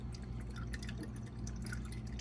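Fuel and water dripping from the drain of a boat's fuel filter during fuel polishing, a faint steady patter of drips over a constant low hum, with no talking.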